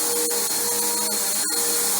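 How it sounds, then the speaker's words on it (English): A Bissell Powerforce bagged vacuum cleaner runs with a loud, steady motor whine and airflow roar throughout, heard close and continuous with one brief dip. "And this is not a super loud vacuum."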